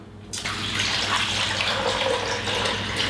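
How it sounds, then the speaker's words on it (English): Water pours steadily into the reservoir of a drip coffee maker, a close, continuous splashing rush that starts after a brief quiet moment and keeps going to the end. "You have it properly aligned, you can go ahead and add your water."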